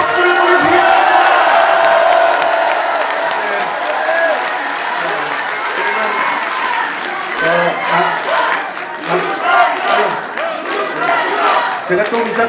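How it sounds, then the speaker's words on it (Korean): At a book launch celebration for lawmaker Yoon Sang-hyun, a big crowd cheers, whoops and applauds loudly at first, then settles into a long, lively wave of clapping and shouts. "우리와 같은 함성과 박수를 보내주시기 바랍니다"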